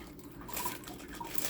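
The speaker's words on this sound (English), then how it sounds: "I'm going to pour out the little stuff." Small Lego pieces for a space truck set are poured out, giving a faint, quick plastic pattering and clinking that rises and falls in short bursts.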